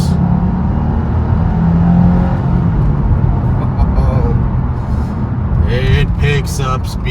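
A 2025 Subaru WRX tS in Sport Plus mode accelerates, its steady engine drone and road roar filling the cabin, with a person talking over it throughout.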